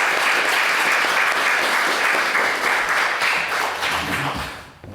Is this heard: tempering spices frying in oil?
no